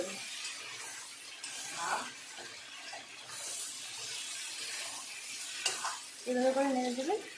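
Chicken pieces sizzling in hot oil in a kadai while being flipped and stirred, a steady crackling hiss with occasional scraping knocks; a voice briefly speaks near the end.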